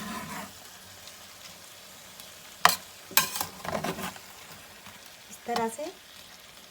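Drained boiled rice is stirred with a spoon in a pan for chicken fried rice, giving a few scraping, rustling bursts over a low sizzle, with someone speaking briefly near the end.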